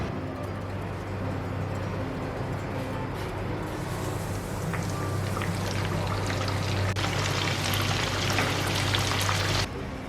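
Puri dough fries in a pan of hot oil with a continuous close sizzle and bubbling that holds steady for about nine seconds before cutting off abruptly.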